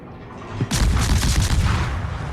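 Ship 130 mm naval guns firing in World of Warships, a sudden loud booming blast that then rolls into sustained rumbling gunfire.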